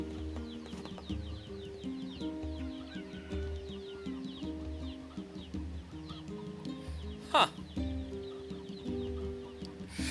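Stock rooster sound in NieR Replicant, with repeated clucking and a sharp crowing burst near the end over a low ambient music bed, and a brief murmured voice.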